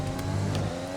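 A Formula 1 car engine in a racing video game drones loudly and steadily close up, a dense harmonic whine holding pitch through one short burst of throttle.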